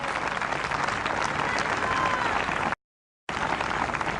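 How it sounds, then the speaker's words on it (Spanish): Church congregation applauding in praise at an outdoor park event, a steady dense wash of many hands clapping, briefly cutting out to silence before resuming. "Damos un aplauso de alabanza grande al Dios Todopoderoso."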